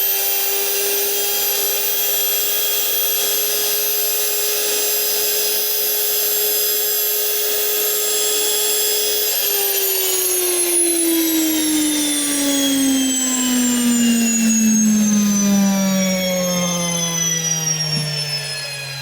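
A NutriMill Classic grain mill runs steadily as a loud, continuous high whine with a droning motor tone, then its pitch slides gradually lower as it spins down near the end, with no voices.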